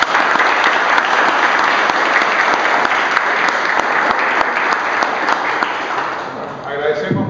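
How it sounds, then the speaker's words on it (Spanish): An audience at a talk applauds the speaker, dense sustained clapping from a full room that stays loud for several seconds and thins slightly near the end. "Un aplauso para el expositor"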